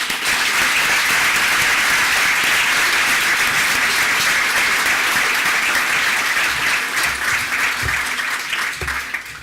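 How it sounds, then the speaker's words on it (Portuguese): Sustained applause from a crowd, steady and loud throughout, with many hands clapping together. "uma salva de palmas."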